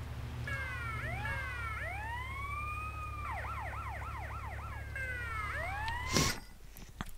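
Police sirens from the video game GTA Vice City Stories wail and yelp in overlapping sweeps over a steady low engine drone. A sharp burst of noise cuts in near the end and the sirens drop away.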